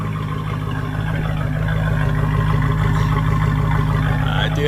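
Mercedes AMG 5.4 V8 swapped into a Chrysler Crossfire, fitted with header wrap and a muffler delete, running steadily at a deep, loud idle with a constant low rumble throughout.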